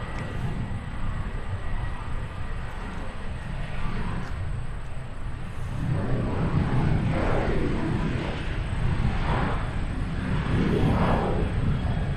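An airplane rolls along the runway at Nashville International Airport, a steady distant roar rising gradually in loudness and broadening as it passes, with no talk.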